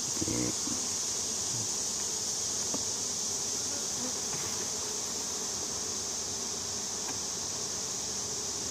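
Dense, continuous buzzing of many bees fills the clip, a steady close hum without pauses or voices.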